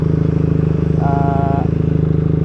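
A Benelli TNT 249S motorcycle engine held at high RPM, a loud, steady buzzing drone throughout with a brief higher whine in the middle, close to the bike.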